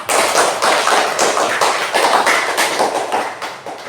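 Classroom students clap together after a correct answer, a loud, close burst of brisk hand clapping that carries on steadily for a few seconds before easing off.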